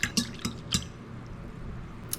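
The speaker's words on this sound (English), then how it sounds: "So now I am adding that packet of yeast to the warm water, and it's right now sitting on top of the water, so we're going to whisk that in." Yeast whisked into warm water in a bowl, with a few sharp clinks and wet splashy taps of the whisk near the start, then quieter liquid stirring and a final light tap.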